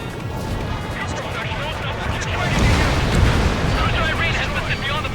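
A missile explosion in the combat flight video game Ace Combat 7, a loud rumbling roar that swells in the middle and then sustains amid crashing debris, with voices talking over it.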